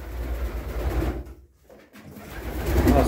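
Several pigeons coo in a low, continuous murmur close by in a loft section housing male pigeons, fading briefly to near silence midway before swelling again.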